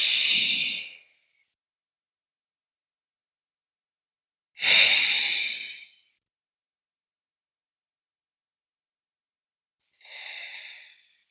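Three slow, deep breaths during a qigong exercise, each a soft airy rush lasting about a second, spaced by long stretches of silence, the last one fainter than the first two.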